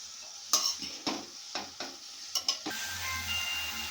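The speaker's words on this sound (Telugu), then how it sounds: "క్యాబేజ్ మొత్తం నూనె పట్టేటట్టు కలుపుకొని" Shredded cabbage for a cabbage curry is tossed in oil in a pan: a low background sizzle broken by several distinct scraping stir strokes, close and fairly quiet, then a louder steady hiss, no talking.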